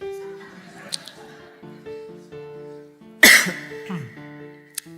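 A single sharp cough bursts out amid quiet background music, followed by a faint trailing noise and a brief click near the end.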